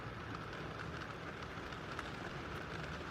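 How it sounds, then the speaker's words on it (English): Steady rain falls outdoors as a continuous, even wash of noise with no voices, constant in loudness from start to finish. "Even this fucking rain right now."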